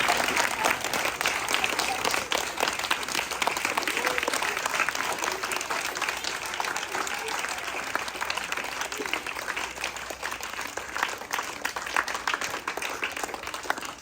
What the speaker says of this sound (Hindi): माँओं के लिए ज़रा ज़ोरदार तालियां हो जाएं आखिर में।